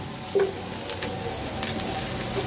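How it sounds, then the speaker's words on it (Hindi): Onion sautés in a pan with a steady, gentle sizzle and faint crackle. Light stirring scrapes occasionally break through the even frying sound, close by and with no voices over it. "ये प्याज हमारा सौते हो गया थोड़ा सा।"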